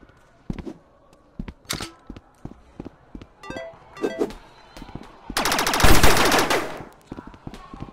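Laser gun fire from Rec Room dodgeball: scattered sharp zaps and shots at irregular intervals, then a dense, loud rapid-fire burst lasting about a second before sparse shots resume.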